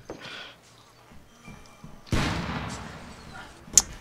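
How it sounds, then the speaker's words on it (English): A grenade blast in the zombie shooter Contagion lands as one sudden broadband burst partway through, with a rumbling tail that fades out and a brief sharp crack near the end. "you blow me up with a grenade"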